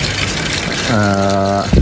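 Water gushes steadily from a tap on a building rooftop nearly five floors up, a loud, close, constant rush with a brief voice over it near the end.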